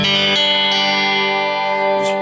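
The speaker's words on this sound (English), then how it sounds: "my favorite effect for lap steel and pedal steel is reverb" A sustained lap steel guitar chord rings out with heavy reverb, steady and loud, the notes blending into a shimmering wash with a slight swell near the end.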